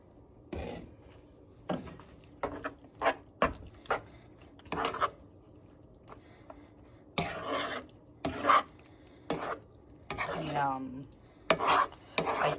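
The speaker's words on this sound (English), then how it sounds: "So let's mix it up." Yogurt and curds for okra pachadi being stirred in a bowl, giving intermittent scraping and clinking strokes of a spoon at an uneven rhythm, close and fairly quiet, with no talking.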